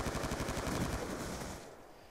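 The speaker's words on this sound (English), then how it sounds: "He's just trying to ruin people's day with that shotgun." Rapid bursts of shotgun gunfire in a first-person shooter video game match, a dense run of loud shots that fades out near the end.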